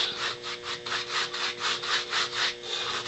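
A brush scrubs Kanvas Koat paint back and forth onto a surface in quick, regular strokes, a close, rhythmic raspy swishing with no talking.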